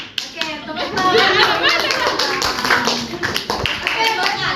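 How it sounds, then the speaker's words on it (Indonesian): In a classroom, a group of children claps hands together while they talk and call out. Dense, uneven clapping runs under steady voices throughout. "Oke, tepuk tangan."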